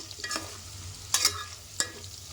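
Potato pieces fry in oil in a pan for aloo pulao, a low background sizzle with a few sharp scraping stirs of a spoon, close by and fairly quiet, with no talking.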